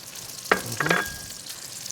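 Ginger and red onions fry in a hot pan for fried rice. A low, even sizzle runs throughout, broken midway by a brief scraping clatter of a utensil.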